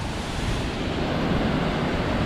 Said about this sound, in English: Getting some spray off the waterfall.